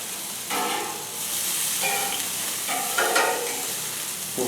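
Burger patties topped with toppings sizzle steadily on a grill, a dense close hiss running the whole time, with a few scraping spatula movements.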